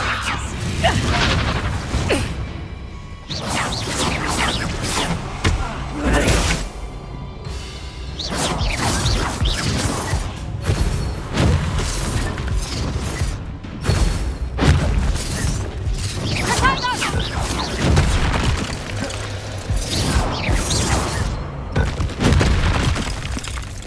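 Bombarda and other spell blasts in the Hogwarts Legacy video game, a dense run of loud booming impacts, crashes and whooshes that keep coming for over twenty seconds with no pauses between them.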